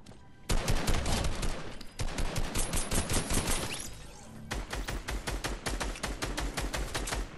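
Rapid bursts of SMG fire in a Fortnite match crackle loud and close, with long automatic strings broken by brief pauses and fast, rhythmic shots.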